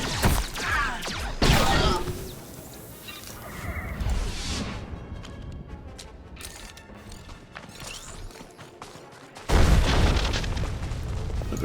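A shuttle explodes in Star Wars: The Old Republic with heavy booms at the start and again near the end, separated by a stretch of mechanical creaking and rumbling.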